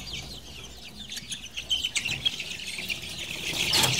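Chickens and roosters on a poultry farm chirp and cluck faintly in the distance, with scattered calls that grow slightly busier toward the end.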